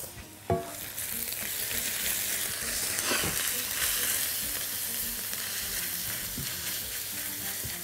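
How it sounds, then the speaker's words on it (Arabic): Onion sizzles in a pan as it begins to brown, a steady close hiss of frying that holds for several seconds after a single sharp clatter at the start, with no talking. "بصلة اهي ابتدت تتحمر"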